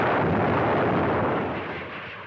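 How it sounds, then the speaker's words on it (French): An archival recording of a jet aircraft exploding at an air show, just after diving fast enough to break the sound barrier: a loud, continuous roaring blast that fills the clip alone and fades slightly toward the end. "et l'avion de John Derry explose."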